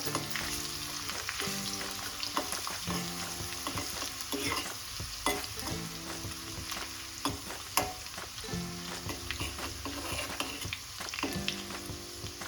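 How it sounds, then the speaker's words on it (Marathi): Garlic and curry leaves fry in oil in a pan for a village-style lima bean curry, a steady close sizzle with repeated scraping stirs and some background music, no talking. "पण आता आपण चवीसाठी लसूण आणि कढीपत्ता टाकतोय. आता हे थोडंसं भाजू द्यायचंय."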